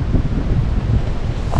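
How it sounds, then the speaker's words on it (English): Gusty outdoor wind buffets the microphone in a constant low rumble with brief louder puffs, with no talking. "it's windy and it's blustery. So you're gonna hear a little bit of wind."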